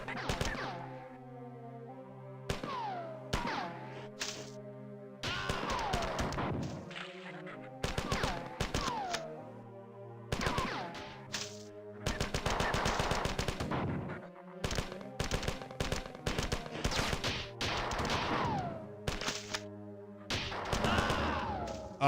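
Machine gun fire from a turret in the video game Marathon Classic rattles in repeated short loud bursts, mixed with in-game explosions and tonal game effects, no talking.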